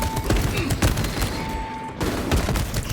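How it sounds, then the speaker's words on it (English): Rapid automatic fire from a turbo gun in Warhammer 40k, a dense continuous stream of loud close shots with a steady whine, pausing briefly before resuming. "Turbo gun engaged."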